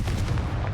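Confringo fire-blast spell cast in Hogwarts Legacy, a dense booming blast of fire with rumbling low-end impacts, loud and close, filling the moment with no speech.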